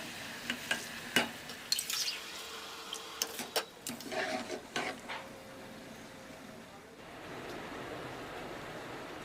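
Soaked rice stirred into hot white oil with cardamom and salt for chicken biryani, with a run of scraping stirs and knocks over a soft frying hiss that later settles into a steadier sizzle.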